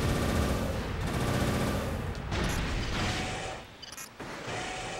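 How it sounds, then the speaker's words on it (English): A game machine gun in Armored Core Nexus firing in steady bursts of ten rounds, loud and continuous rapid shots with brief pauses between bursts, mixed with mechanical game noise and no talk. "basically it's a 10-shot machine gun. Every 10 shots, I'm straight up holding the button down"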